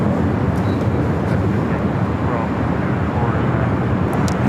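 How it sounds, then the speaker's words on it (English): Asiana Airlines Airbus A380 arriving at LAX from Seoul, a loud, continuous low engine roar with broadband rumble filling the whole stretch, close and steady. "Next arrival is Asiana flight 204, the A380 Super coming in from Seoul."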